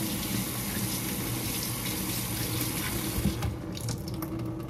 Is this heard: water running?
yes